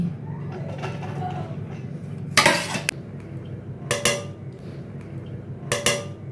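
Rice being spooned into a pot and layered for a Kolkata-style chicken biryani, heard as a few sharp scraping clinks of a utensil against the pot with a soft background hum between them.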